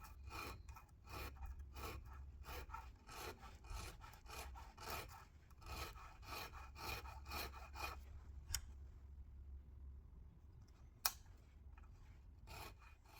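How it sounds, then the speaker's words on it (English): Hand file rasping in quick repeated strokes against a small metal lock pick tip, a steady run of scratchy bursts that stops partway, followed by quieter handling and a couple of sharp clicks, with no talking. "I tend to do a few strokes of the file, double check my work, and then a few more strokes of the file"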